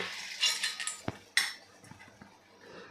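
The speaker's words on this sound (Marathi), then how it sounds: "आणि पुन्हा एकदा छान मिक्स करून घ्यायचं" Spoon scraping and clinking against a pan while soaked masoor lentils are mixed into fried spices, with irregular metallic knocks and scrapes and a faint background hiss, close and fairly quiet.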